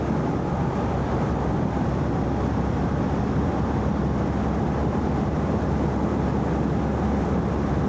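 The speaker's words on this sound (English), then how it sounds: "we're on the motorway, we're doing 70 miles an hour, and like I say, I'm getting no wind blast whatsoever. It's just a bit noisy" A 2025 BMW R1300R motorcycle cruising at 70 mph on a motorway, heard as a steady, loud broadband roar of engine and rushing air that holds constant throughout with no voices.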